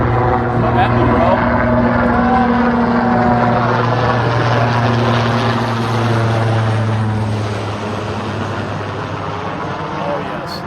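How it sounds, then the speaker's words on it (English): Marine One helicopter passing directly overhead above a crowd of protesters near the White House, a loud steady rotor roar with a low droning hum that eases slightly as it moves off, with voices over it. "There's Marine One flying directly over the protesters."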